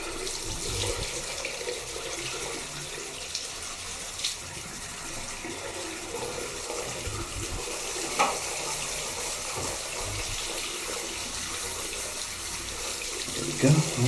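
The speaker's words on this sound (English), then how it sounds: "I'm just opening the tap up. It's on top of setting. It's all warm water." Warm water runs from a tap into a sink in a steady, continuous gush that lasts the whole stretch, with small splashes now and then.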